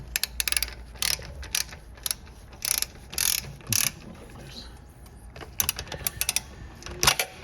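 Exhaust fasteners on a Honda CB650R with an Akrapovic system are tightened part way in turn, giving bursts of ratchet clicking separated by pauses and light handling noise, fairly close and without talk.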